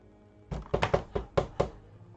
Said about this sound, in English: You hear a knock at the door of your room.